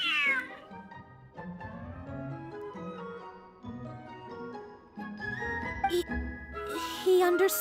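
A cat meowing in a video game: a series of drawn-out, plaintive meows and yowls, close and clear, repeating over several seconds, with a few brighter cries near the end.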